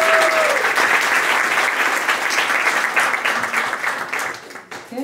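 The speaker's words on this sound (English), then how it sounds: "So if you could give a round of applause for the Black Image Center." An audience at a panel event applauds loudly, with a dense, steady clatter of many hands that thins out and tapers off near the end.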